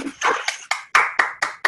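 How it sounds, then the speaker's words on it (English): Applause for contestants at an online Battle of the Books event: a handful of sharp, evenly spaced claps, fairly close and clear, with no talking over them. "let's have a big virtual round of applause for all of our contestants"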